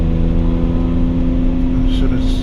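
A BMW 135i engine droning and revving from the cabin during a rolling anti-lag run, a steady harmonic engine tone with a faint voice underneath.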